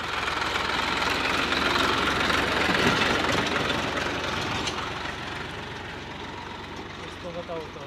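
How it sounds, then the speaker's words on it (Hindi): A farm tractor's engine runs steadily with a heavy low rumble as it passes along a broad village dirt road, loud and close, fading slightly toward the end, with people talking over it. "ये ट्रैक्टर निकल रहा"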